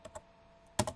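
Keystrokes on a computer keyboard while a Minecraft server command is entered: two light taps, a pause, then a louder close burst of two or three clacks near the end, with no talking.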